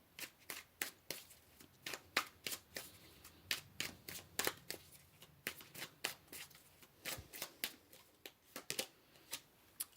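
Tarot cards are shuffled and drawn by hand in a rapid string of close, crisp riffles and flicks. The slaps come in quick irregular bursts for the whole stretch, with no talking.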